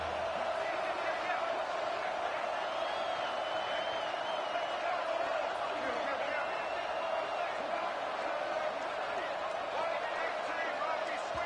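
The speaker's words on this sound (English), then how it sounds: "And with this place rocking, the crowd forces a false start" Steady roar of a stadium crowd in the CFB26 college football video game during a Houston versus Oregon online dynasty matchup, a dense continuous wash of noise that holds throughout, with a commentator's voice running underneath.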